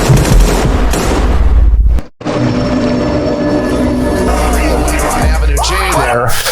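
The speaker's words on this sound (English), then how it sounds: "Oh my God, he's got a gun!" Gunfire sound effect set inside a hip-hop music track, loud bursts layered over a heavy beat and vocals, with a brief dropout near the middle before the music returns.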